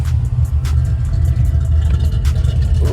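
A Camaro's engine rumbles deep and loud with a steady throaty idle and slight revving swells, heard up close with no talking.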